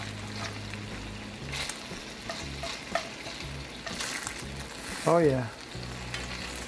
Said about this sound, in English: Hear that bacon sizzling?